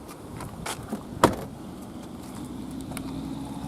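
The trunk lid of a Mercedes-AMG GT S comes down with a few light handling clicks and then one sharp, solid latch thud, followed by quiet ambient hum.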